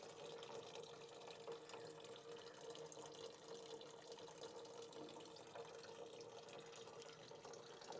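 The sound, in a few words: water running into fish tank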